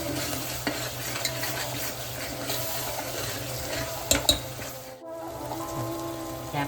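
Homemade misal masala with red chili powder roasts in oil in a pan, a continuous close sizzle with scraping stirs and a couple of sharp utensil clinks, cutting out briefly near the end before resuming.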